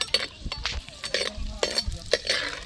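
Green chillies go into garlic frying in a pan, making a close crackling sizzle broken by several quick spoon scrapes and stirs.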